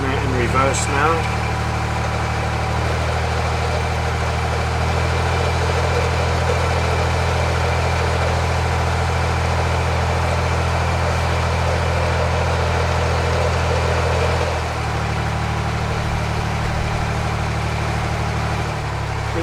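Narrowboat diesel engine running in reverse, a steady low throbbing drone that continues throughout, close by, with a brief dip in revs near the end.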